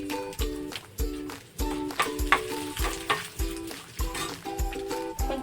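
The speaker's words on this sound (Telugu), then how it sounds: "ఎండుమిర్చి వేసుకుంటున్నాను అండి." Dried red chillies sizzle and crackle in hot oil for a coconut chutney tempering, with a steady frying hiss and repeated scraping stirs in a rhythmic pattern, close and fairly loud.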